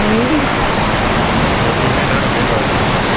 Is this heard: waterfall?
yes